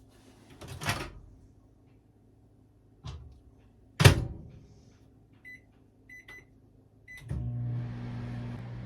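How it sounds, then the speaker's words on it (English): A microwave oven warming water for homemade lotion; a door thunk and clatter, several beeps, then a steady low hum as it starts running, with no talk. "So I'm gonna stick it in the microwave, warm it up"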